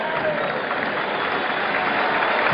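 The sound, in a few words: stadium crowd ovation at American football game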